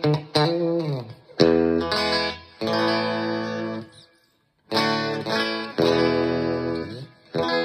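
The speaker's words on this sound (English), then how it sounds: "the bridge pickup sounds pretty good" An electric guitar, a T-style on its bridge pickup, plays bright, ringing phrases and sustained chords, stopping briefly in the middle before starting again.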